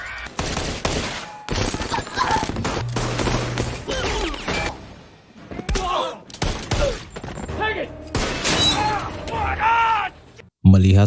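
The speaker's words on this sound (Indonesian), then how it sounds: "Tembak-menembak pun tak terhindarkan." Dense bursts of gunfire and shattering fill a film shootout scene, with rapid volleys and impacts running almost continuously under a narrator's voice, broken by brief pauses and a sudden cutoff near the end.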